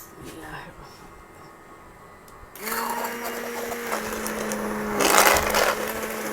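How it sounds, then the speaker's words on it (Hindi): A hand blender switches on partway through and whirs steadily through chicken haleem, a close, droning motor hum that rises in pitch and strain toward the end, with talk over it. "लेकिन हम इसको हैंड ब्लेंडर से ब्लेंड कर लेते हैं।"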